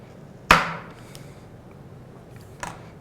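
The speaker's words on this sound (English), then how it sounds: "first cut the wood in half or however you want to" A chop saw makes a single sharp cut through a basswood stick, a loud snapping impact that rings out briefly, followed by a fainter second knock a couple of seconds later, with no talking.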